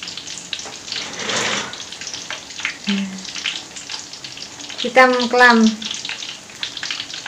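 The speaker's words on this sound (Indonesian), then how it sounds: "Menggoreng tempe gabus." Oil sizzles and crackles steadily as tempe gabus fries, with a brief burst of bubbling, while a person speaks a few words over it and a short tonal sound rises near the end.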